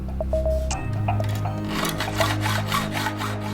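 A hand tool scrapes back and forth in a steady rasping rhythm, several strokes in a row, close up with no talking.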